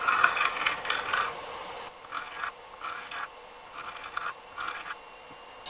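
A diamond plate is stroked over the curved plane iron of a Stanley 100-1/2 with a close, gritty rasp. It sounds in several separate back-and-forth passes with short pauses between them.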